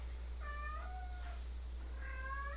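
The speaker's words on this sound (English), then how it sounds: "We're going to have to ignore the cat because he's just going to meow the whole time" A pet cat meows in two clear, drawn-out calls separated by a short pause, fairly close, over a steady low background hum.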